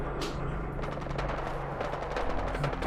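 Dense, continuous gunfire in Fallout 4 VR's Brotherhood ending, rapid machine-gun bursts and overlapping shots rattling without pause across a steady battlefield din.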